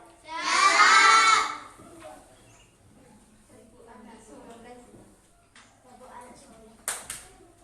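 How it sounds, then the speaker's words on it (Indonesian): Children in a primary school lesson clap and chant the Tepuk Anak Soleh clap song together: a loud, dense burst of young voices early on, then quieter chatter and a couple of sharp claps near the end. "bernyanyi tepuk anak soleh"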